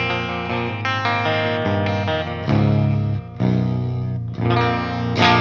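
A Deviant Guitars Grimoire electric guitar with an EMG 81X bridge pickup plays a full-bodied clean tone through effects with mids cut, giving sustained ringing chords that change every second or so. It is close and steady, with no voices.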